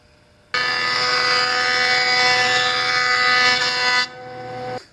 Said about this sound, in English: we're going to use the planer with a jig to do that